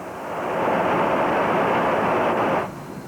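A loud, steady B-52 bomber jet roar swells over the first half-second, holds broad and heavy, then drops away sharply near the end.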